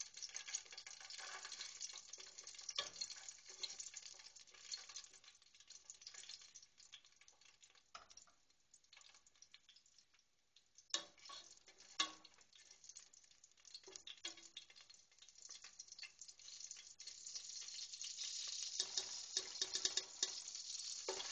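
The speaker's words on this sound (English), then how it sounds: "We're going to put it right into the virgin olive oil that's cooking along with" Paprika and garlic cloves cook in virgin olive oil for a Spanish sopa de ajo, giving a steady, moderately quiet sizzle and crackle that drops briefly partway through and swells again toward the end, with no talking.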